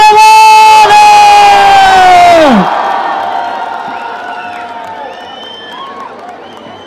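A university crowd at Chandigarh University greets a Punjabi singer arriving on stage with a loud wash of cheering and whooping after a long drawn-out voice, the roar gradually fading.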